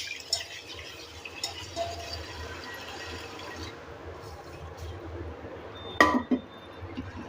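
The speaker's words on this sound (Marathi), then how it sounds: "आता आपल्याला पाणी ओतून घ्यायचं आहे।" Water poured into a pressure cooker holding mung beans, a soft trickling splash at low level over room hum, ending with a sharp metallic clink of the vessel.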